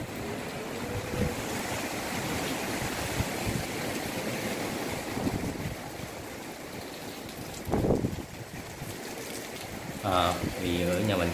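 Fierce gusts of Typhoon Molave before landfall on the Vietnamese coast roar with crashing surf and heavy wind buffeting the microphone, continuous and loud throughout, with a voice briefly audible near the end.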